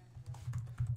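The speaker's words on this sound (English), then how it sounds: "I start typing" Typing on a computer keyboard while working in a Google document: a quick run of soft, close key taps in an uneven rhythm, with no voice over them.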